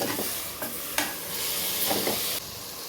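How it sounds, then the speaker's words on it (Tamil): Continuous sizzling from a hot pan, with a utensil scraping and stirring through turmeric, tomato and ginger-garlic paste in a few distinct strokes. "மஞ்சத்தூள், தக்காளி, இஞ்சி பூண்டு பேஸ்ட்லாம் போட்டு நல்லா கொஞ்சம் நேரம் கலரி விடணும்."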